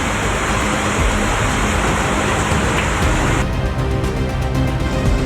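Heavy, steady rain pours down on city streets in Firozabad, India, where continuous downpour has left waterlogged roads, a dense unbroken hiss filling the whole stretch at close range with no voices.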